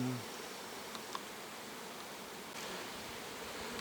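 Honeybees swarming at an apiary in late August give a steady, diffuse hum that fills the space at moderate distance, with faint outdoor rustle and no talking.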